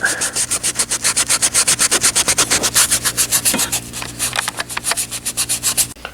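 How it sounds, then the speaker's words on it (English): A car radiator surface is scrubbed rough by hand before JB Weld goes on, making rapid, rhythmic rasping strokes that are loud and close, repeating steadily for several seconds with no talking. "we got the radiator all roughened up"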